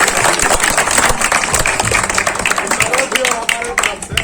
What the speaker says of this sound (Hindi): सर के लिए एक बार जोरदार ताली।